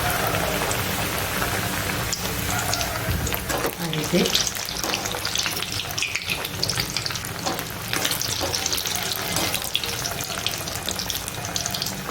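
Steamed semolina muthiya dumplings fry in hot oil with a steady, dense sizzle and crackle that goes on unbroken throughout.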